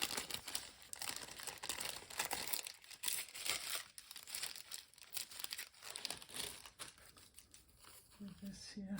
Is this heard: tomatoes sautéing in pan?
no